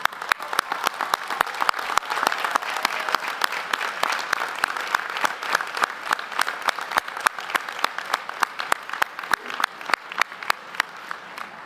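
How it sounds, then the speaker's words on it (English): A large university commencement audience claps in sustained, dense applause that stays steady for several seconds, with faint crowd murmur underneath. "Let's stand and give them a rousing round of applause."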